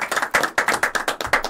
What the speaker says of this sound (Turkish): Levent Fırıncı'ya bir alkış alabilir miyim?